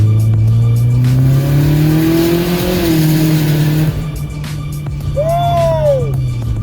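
A Mitsubishi EVO X MR built to 500 wheel horsepower accelerates hard through an underpass with a window cracked, its loud engine note climbing then dropping at a shift before building again, with a high whine rising near the end.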